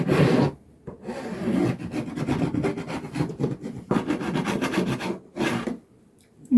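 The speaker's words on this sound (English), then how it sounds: "So just use a file for that to get rid of those splinters." A hand file rasps against a wooden block to knock off splinters, with rapid back-and-forth scraping strokes in several close, loud bursts separated by brief pauses.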